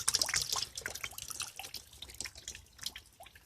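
Rainwater drips steadily from a covered rain catchment spout into a barrel, a fast irregular patter of close, light drops with no talking.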